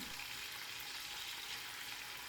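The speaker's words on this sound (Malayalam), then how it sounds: "ഇതിങ്ങനെ തന്നെ ഒന്ന് ഫ്രൈ ചെയ്തെടുത്താൽ മതി" Chicken pieces coated in green masala frying in a pan, a soft, continuous hiss and crackle of hot oil, steady and faint with no talk.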